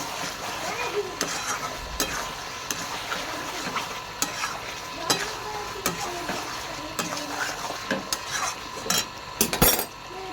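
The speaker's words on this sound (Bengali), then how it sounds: "মশলাটাকে দিয়ে কষাবো এরকম আবার কষে কষে নেবো" Mutton being stir-fried with cumin, black pepper powder and cardamom, a spatula scraping and stirring in a pan in repeated strokes over a steady sizzle, with occasional sharper metal clinks.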